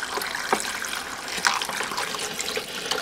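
Water pours and trickles steadily to fill a container where a 20-foot copper cooling coil for an extreme CPU overclocking setup sits in ice-cold water, with a brief splash or clunk now and then.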